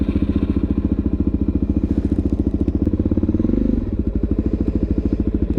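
A Suzuki DRZ dirt bike rides off-road, its single-cylinder engine thumping in a steady, fast rhythm close by, with a brief surge in revs partway through before it settles back to an even chug.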